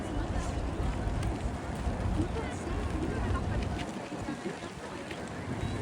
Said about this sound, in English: The reverse thrust.